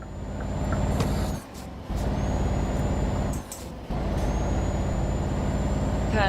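A truck engine in Euro Truck Simulator 2 drones loud and close, cut by two sharp air-brake hisses and changes in revs that drop and return, with no speech.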